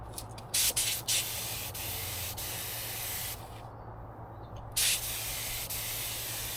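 A spray gun shoots gelcoat mixed with about 20% Duratec and catalyzed with MEK, giving a steady, close hiss of spraying with a few louder bursts and one short pause. No one speaks.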